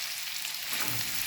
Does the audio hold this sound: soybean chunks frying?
yes